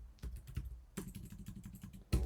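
Rapid light keystrokes on a computer keyboard, an irregular quiet clatter of taps close by, with a louder tap at the end and no voices.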